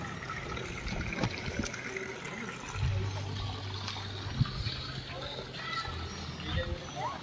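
A waterfall stream near the Mahakal temple at Chandikhol in Jajpur pours in a steady broadband rush, with a low hum and faint voices beneath it.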